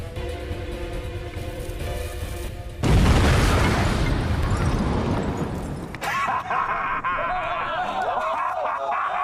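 A cannon fires: a sudden loud boom bursts out after quiet rumbling, followed by a long crackling roar that fades into a tonal, whirring tail.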